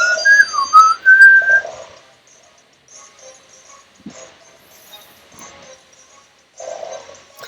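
Grass Whistle move sound effect from a Pokémon video game: a short, gliding, high whistled melody lasting about two seconds, followed by quieter game sounds.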